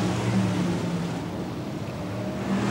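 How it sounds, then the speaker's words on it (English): BriSCA Formula One stock cars race at Kings Lynn, a steady, blended engine roar from the pack, heard at a distance as a continuous low rumble without distinct passes. "BriSCA Formula One stock cars, and away we go then."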